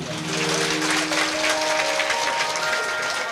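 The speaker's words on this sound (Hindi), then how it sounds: "अगर अच्छी लगी तो ताली बजाइए" Sustained applause from a crowd at a Hindu religious discourse on the Shiv Mahapuran, steady and fairly loud throughout, with a held musical tone ringing underneath.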